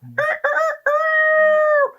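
A rooster crows nearby at dawn, loud and clear, with two short opening notes followed by a long drawn-out final call.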